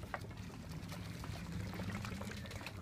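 Apple juice mixed with water swirls inside a bottle spun in tight circles to form a tornado, a faint continuous sloshing and gurgling that holds steady, close but quiet, with no talk.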